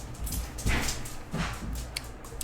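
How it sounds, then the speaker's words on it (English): Dogs in the opening of Medieval Dynasty on a spring morning give short whimpers and soft barks, two brief bursts close by over a low background. "Dogs are getting into stuff."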